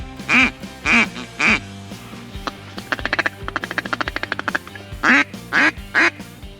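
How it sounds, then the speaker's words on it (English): Duck call blown by hand to lure ducks, giving a run of loud nasal quacks, a quick rattling burst of short clucks, then three more spaced quacks, close and clear with no talk. "Another way to lure ducks in is by using a duck call"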